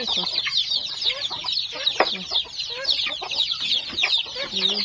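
Several chickens cluck and chatter continuously up close, with overlapping calls and occasional sharper squawks.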